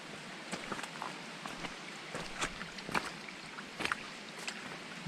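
A mountain creek runs over a Great Smoky Mountains hiking trail, giving a faint, steady rushing wash broken by soft splashes and clicks.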